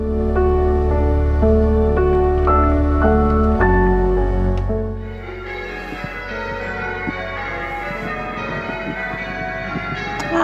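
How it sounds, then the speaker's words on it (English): A church bell near Helmsley Castle rings loud and close, its strikes overlapping in a resonant peal, then fading into a lingering hum with distant chimes. "That's the church bell, still going off."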